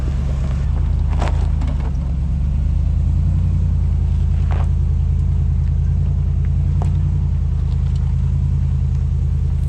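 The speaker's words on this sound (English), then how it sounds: "Bouncing all four wheels up the ledge at the same time was a scary moment." A Toyota Land Cruiser 100 series 4x4 grinds up a rocky ledge off-road, its engine rumbling low and steady, with a few sharp knocks and clunks as the wheels bounce over rock, close and alone.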